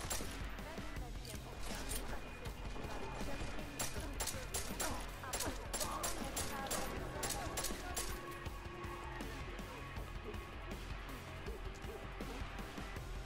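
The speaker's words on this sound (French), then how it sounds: "Centrale, on a des coups de feu par ici." Rapid bursts of gunfire in the video game Deus Ex: Mankind Divided crackle over and over in quick succession, with voices talking underneath the shooting.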